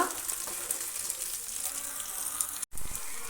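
Curry leaves and onions roasting in a pan for fish curry, giving a steady, fairly faint sizzle that runs throughout with one brief dropout near the end.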